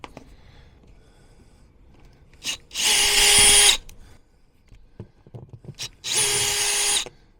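Power drill backing screws out of an RV slideout sweep: two loud whirring bursts of about a second each, separated by quiet handling noises, close up with no talk.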